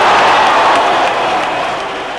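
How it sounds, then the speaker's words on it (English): A huge stadium crowd roars after Iran scores in a football match against the USA, a dense sustained wall of cheering and applause that stays loud throughout and eases slightly toward the end. "The huge crowd exploded into jubilation"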